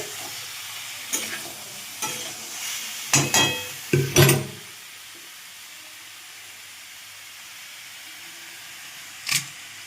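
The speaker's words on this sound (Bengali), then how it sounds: "এই যে আলু, বড়ি এগুলো সব দিয়ে দিলাম মশলাটা, নাড়াচাড়া করে নিচ্ছি।" Potatoes and bori are stirred with spices in a pan: a cluster of loud scraping stir strokes in the first half, then a low sizzle, with one more scrape near the end.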